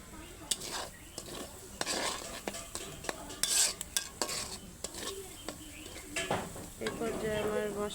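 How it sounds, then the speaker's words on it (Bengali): Masala being stirred and sautéed in a pan for a long time until the oil separates, with a spoon scraping and clinking against the pan over a steady soft sizzle, close and moderately quiet, no talk. "আমি প্রায় সাত মিনিট ধরে মশলাটাকে আমি কষাচ্ছি"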